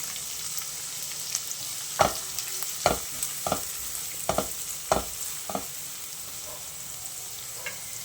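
Onion fries in a pan over full gas with a steady sizzle, punctuated by several sharp scraping stirs of a utensil against the pan, then settling into a quieter frying hiss.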